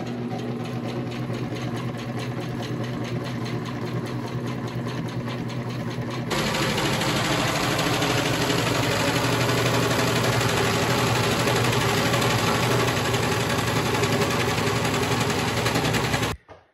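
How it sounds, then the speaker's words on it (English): A sewing machine hems curtains in one long continuous run, humming and clattering steadily close by, speeding up partway through and then stopping abruptly at the end. "Now all we've got to do is sew it all up."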